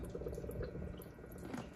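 Steady low bubbling and gurgling of coolant in a Rolls-Royce Silver Spur engine with a leak, continuous and fairly close, with no voices.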